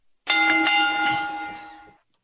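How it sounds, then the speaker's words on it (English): A single bell struck once to close a wrestling podcast's news segment, ringing out with a bright metallic tone that decays slowly over about two seconds, heard alone without talk. "I'll ring the bell to close us out here."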